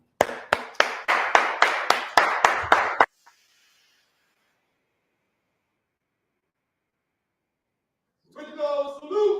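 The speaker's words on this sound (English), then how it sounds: "you can stand and clap your hands as we welcome Minister YASHUA to the podium" An audience stands and claps in unison to welcome a minister to the podium at a lecture event. About three seconds of loud, rhythmic, evenly spaced claps stop abruptly, and after a long silence a voice speaks.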